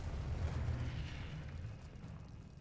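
A Confringo spell explosion in a Harry Potter video game lands as a deep, rumbling boom that swells and slowly fades over a few seconds, with no voices on top.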